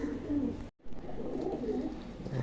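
Pigeons kept for sale coo softly at close range. The low, rolling calls break off for a moment near the start, then carry on quietly.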